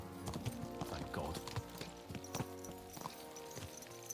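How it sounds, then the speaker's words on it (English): Horses clip-clop along in Kingdom Come: Deliverance 2, their hooves falling in quick irregular beats up close, mixed with tack jingling and faint game ambience. "Let's really spur these horses on, eh?"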